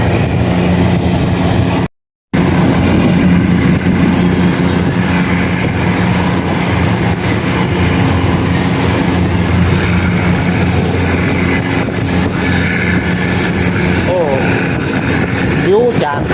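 Steady rumble of Thai train 431 running along the rails through forest, a continuous loud clatter and drone with a voice speaking over it.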